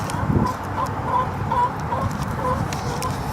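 Backyard chickens kept in a coop cluck softly and repeatedly in a steady low murmur, several birds at close range with no talking.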